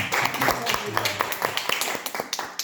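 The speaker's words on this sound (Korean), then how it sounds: "박수로 영광 드리겠습니다" A church congregation claps along to give glory, with sharp scattered claps at close range mixed with a voice talking underneath throughout.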